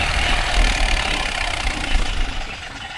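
A Swaraj 744 FE tractor engine rumbles steadily while pulling a 9-tine spring cultivator through dryland field, a loud, close, continuous low drone with slight fluctuations and no talk.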